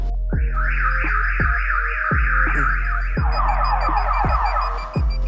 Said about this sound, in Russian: Начинается тревога